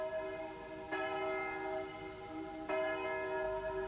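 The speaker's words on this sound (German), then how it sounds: "Vor bedeutungsschwerem österlichen Glockengeläute" Church bells toll for Easter, each deep, ringing strike clear and sustained with long resonant decay, two strokes about two seconds apart with no voices.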